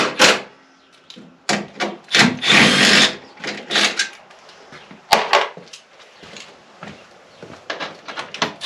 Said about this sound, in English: Just pulling bolts for no reason now.